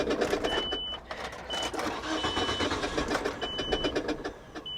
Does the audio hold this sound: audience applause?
no